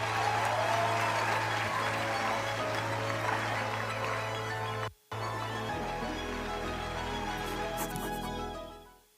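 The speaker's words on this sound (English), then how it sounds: "Please give yourself a round of applause." Audience applause fills the room in a steady wash of clapping, broken briefly by a cut, then continuing over a low hum before fading out.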